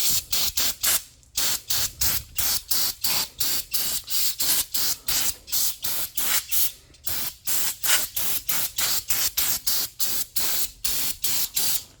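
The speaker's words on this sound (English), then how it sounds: "you take this brake cleaner, and then what you do, you just spray like that." Rapid bursts of brake cleaner aerosol spray, short hissing puffs repeated steadily one after another at close range while cleaning grime from brake calipers, with no voices.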